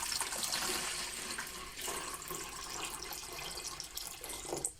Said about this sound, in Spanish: Voy a poner agua de mi estanque aquí.